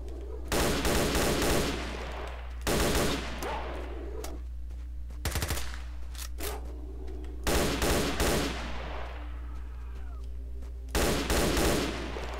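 Automatic-weapon fire in the STALKER Shadows addon mod: repeated loud bursts of rapid shots come in several clusters with quieter gaps between them, over a steady low game hum, with no talking.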